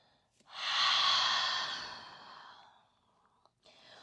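A single long exhale through the mouth during a yoga flow, close and breathy, swelling quickly and then fading over about two seconds, followed by quiet.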